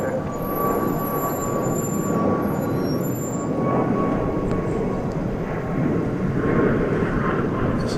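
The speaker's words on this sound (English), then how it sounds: "I believe this is that Delta plane we saw headed off to Salt Lake. It's an Airbus A220." A Delta Airbus A220 jet at DFW Airport produces a broad, steady engine roar from a moderate distance, with a thin high whine riding above the rumble for several seconds.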